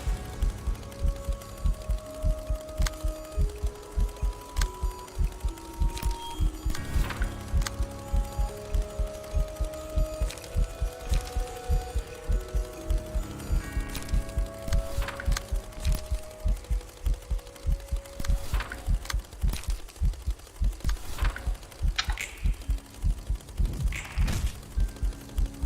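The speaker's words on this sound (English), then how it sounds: "This heart beating noise is very disturbing." Steady thumping heartbeat from the Library of Ruina video game, a dense rhythmic pulse running throughout alongside clicking mechanical ticks and shifting tonal game sounds, loud and continuous with no talking.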